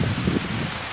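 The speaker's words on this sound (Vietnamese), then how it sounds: "đang quay rồi mưa" Steady rain falling in the Vietnamese countryside, a dense even patter heard close and continuous with no voices.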